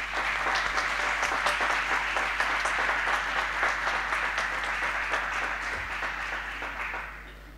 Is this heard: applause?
yes